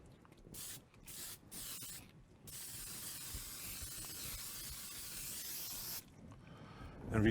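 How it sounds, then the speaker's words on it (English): An aerosol can of Krylon Matte low-odor sealer sprays in short bursts, then in one long continuous hiss that stops abruptly near the end. "And now we'll just go ahead and spray this."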